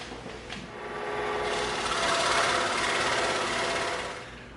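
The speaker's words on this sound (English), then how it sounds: "Now we're going to cut this on the scroll saw real quick." A scroll saw cuts through EVA foam with a steady, close buzzing drone that swells slightly in the middle of the cut and carries on without pause.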